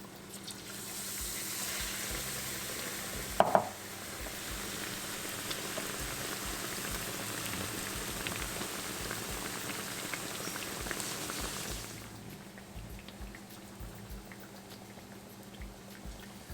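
Bread pakoda fries in a pan of oil, a steady soft bubbling crackle with one sharp clink near the start, before the sizzling drops quieter toward the end, with no talking.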